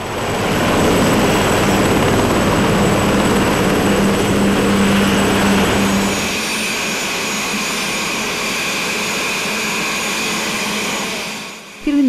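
A helicopter flies close by with a loud, steady rotor and turbine drone that softens partway through and then fades out.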